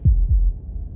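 A heartbeat in the video game Slay the Princess pulses with deep, muffled thumps in a lub-dub rhythm, then another beat begins, close and without speech.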